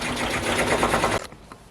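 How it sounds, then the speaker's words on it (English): Brother embroidery machine stitches a cap held in a cap hoop, a rapid rhythmic mechanical chatter for about a second before stopping abruptly, leaving a quieter hum. "It's looking like it is stitching in the correct spot and not starting in the center of the hoop"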